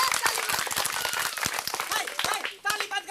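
Loud clapping breaks out during a Maithili comedy performance. Dense, uneven claps pile up over lively voices and crowd chatter, then thin out toward the end.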